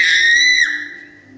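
A squeezed toy doll gives one loud, shrill squeal, held for about half a second before it drops and fades into a softer tail.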